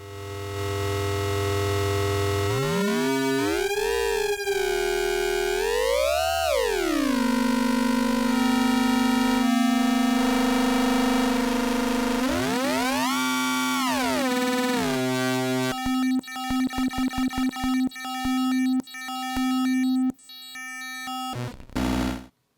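Harsh digital synthesizer tones from an Intellijel Shapeshifter with two oscillators combined by AND logic, sweeping pitch glides and buzzy harmonics, turning into choppy, glitchy static bursts toward the end.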